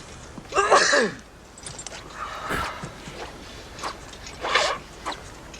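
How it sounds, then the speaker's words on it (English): A sneeze from a character in a low-budget swordfighting film, one sharp burst near the start followed by softer rustling and a second breathy burst, with no talk. "He did a sneeze."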